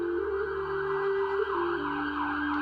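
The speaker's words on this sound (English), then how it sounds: "Sirens going by." Sirens wail on a Toronto street, their rising and falling tones heard at a moderate distance, steady and alone.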